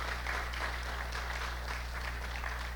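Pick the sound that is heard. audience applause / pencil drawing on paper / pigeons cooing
audience applause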